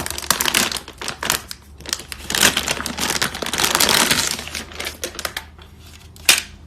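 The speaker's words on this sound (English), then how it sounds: "So here is the graphics card. Let's take it out of the bag." A new graphics card with DDR6 VRAM, an HDMI port and three DisplayPorts being pulled out of its plastic bag, with loud, close crinkling and crackling in irregular bursts and no talking.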